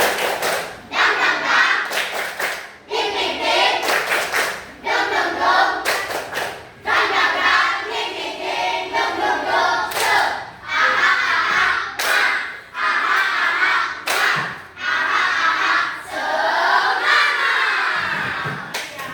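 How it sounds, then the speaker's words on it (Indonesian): A school class does a rhythmic spirit-clap chant, loud patterned bursts of group clapping and shouting in short repeated phrases with brief gaps between them. "Tepuk semangat ini ya"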